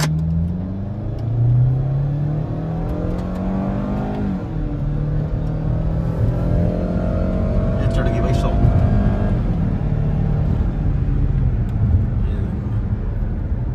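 A Hyundai Sonata petrol engine roars under hard acceleration, revs climbing through gear changes, with people talking over the rumble.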